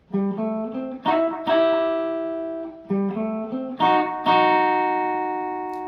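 Country swing guitar double stops strummed in short pairs, each chord ringing out with clear sustained tones, played alone with no talking.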